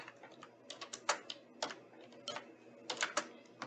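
Species names being typed on a computer keyboard: quick, irregular clusters of light clicking keystrokes, close and quiet, with short pauses between bursts.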